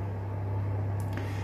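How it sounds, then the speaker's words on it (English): A room heater hums steadily in the background of a cold indoor room, a low constant drone running unbroken throughout with no talk, and a faint brief rustle near the end. "You might also be able to hear the hum of the heater in the background."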